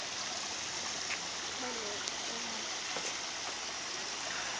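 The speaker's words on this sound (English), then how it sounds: "little river creek" Small river creek in a garden, a steady broadband rush of flowing water heard up close, with faint voices and brief bird-like chirps over the constant babble.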